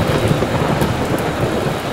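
Heavy rain falls in a thunderstorm, a loud, dense roar of downpour with low rumbling thunder underneath, continuous and close with no talking.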